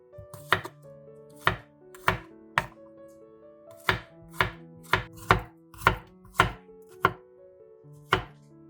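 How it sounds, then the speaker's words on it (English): Knife chopping four garlic cloves on a board, about a dozen crisp, close thuds at an uneven, unhurried rhythm with no talking. "Chop 4 cloves of garlic."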